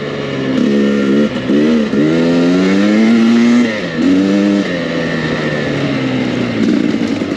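A 2023 Husqvarna TE300i dirt bike is ridden with a loud, close engine drone that rises and dips through several revving surges, its buzzing pitch sliding with the throttle.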